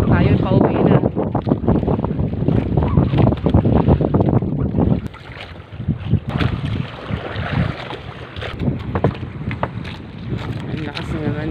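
Strong southwest monsoon wind buffets a fishing boat at sea, a loud roaring rush of wind noise with engine drone and water beneath, while voices talk over it in the first half.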